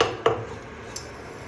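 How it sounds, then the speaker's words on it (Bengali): A metal wok (kadai) being set down on a stove for frying luchi: a sharp clank near the start, then a fainter metallic tap, with quiet room tone around them. "কড়াইটা বসিয়ে দিয়েছি, লুচি ভাজা করবো।"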